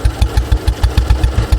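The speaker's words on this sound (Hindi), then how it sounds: "इंजन की जो साउंड है वो अच्छी खासी है" A 1981 Royal Enfield Bullet motorcycle runs close by with its single-cylinder engine thumping in a loud, even beat, about six firm pulses per second throughout, with no talking.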